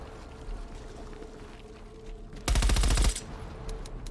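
A short, loud burst of rapid automatic gunfire in Call of Duty Black Ops Cold War, rattling for under a second over steady jungle-battle ambience.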